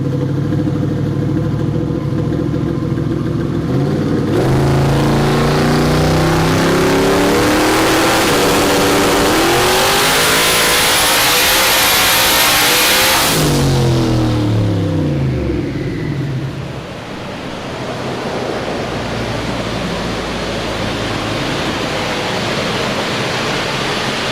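Turbocharged Coyote-engined Ford Mustang on a dyno, engine revving hard as pitch climbs in a rising sweep for about ten seconds, then cutting off and winding down into a fading rumble, loud and close with no speech.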